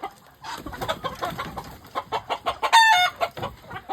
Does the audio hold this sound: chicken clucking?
yes